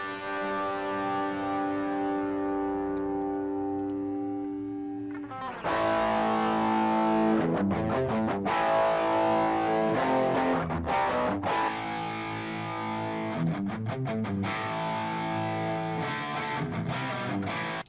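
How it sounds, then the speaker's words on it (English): Rhythm guitars through an ART SGX T2 effects processor, dry with no added plugin effects: a held distorted chord rings out, then chugging, chopped distorted strums follow in a steady rhythm, loud and with no voices. "now this is going to be the guitars with zero effects on my end"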